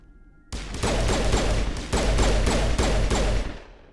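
Continuous loud gunfire in Mass Effect during a firefight with a sniper, with rapid repeated shots roaring steadily for several seconds after a sudden start.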